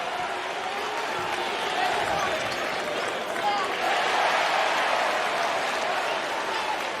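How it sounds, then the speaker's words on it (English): A basketball arena crowd at an NCAA men's tournament first-round game, Creighton against Akron, roars and cheers in a steady, dense wash that fills the whole stretch, with commentators' voices under it. "People are cheering and nothing's going on"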